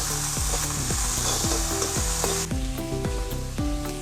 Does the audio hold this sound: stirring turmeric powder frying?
yes